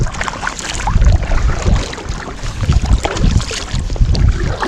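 A small boat is back-paddled near an edge in about a 10 mph wind, with continuous loud wind buffeting and water sloshing around the hull, close to the microphone, and no speech.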